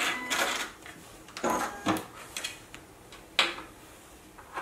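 A JUKI computerized sewing machine stitches a programmed pattern on a beverage coaster, running in short bursts of rapid mechanical whirring separated by brief pauses, close by with no talking.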